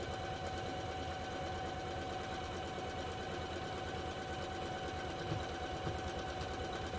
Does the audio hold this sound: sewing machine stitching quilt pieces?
yes